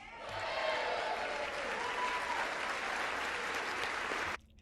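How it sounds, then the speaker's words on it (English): Applause in the House chamber: steady, dense clapping from a large crowd, sustained for about four seconds before stopping abruptly. "By the way, only gets half the applause."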